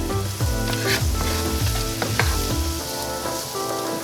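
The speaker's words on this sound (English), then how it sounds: "We're going to let that saute for a few minutes." Chopped yellow and red onions sautéing in a pan, a loud, close, continuous sizzle with stirring clatter throughout and nobody speaking.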